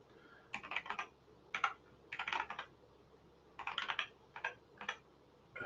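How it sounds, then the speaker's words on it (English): Computer keyboard being typed on in short irregular bursts of quick key clicks with brief pauses between, close and fairly quiet with no talking. "while I'm typing"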